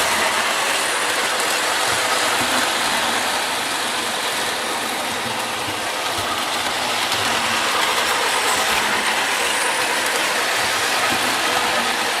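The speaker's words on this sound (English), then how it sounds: "And our local train." A model train runs through a Christmas garden display, a steady rolling rattle with faint clickety-clack carrying through the whole stretch at a close, even level, with no voices over it.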